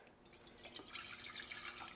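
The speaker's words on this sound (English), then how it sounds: "I'm going to pour a little bit of E85." E85 ethanol fuel trickles from a jug into a glass jar, a steady splashing liquid pour that grows louder after the first moment and continues for about two seconds with no talking.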